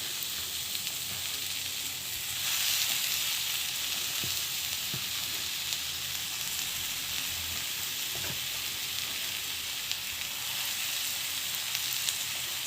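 Garlic paste and mashed potato sauté in a pan with a steady, close sizzle and hiss, broken by a few soft clicks from stirring; no one speaks.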